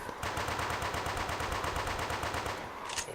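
Rapid automatic gunfire in the shooter game Guncraft, a loud sustained burst of evenly spaced shots that stops near the end, followed by a brief sharper crack.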